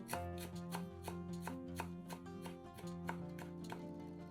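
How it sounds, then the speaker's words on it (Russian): Knife chopping a bunch of dill on a cutting board in a kitchen: a steady, fast series of crisp close knocks against the board, with no voices. "Пучок укропа измельчаем ножом."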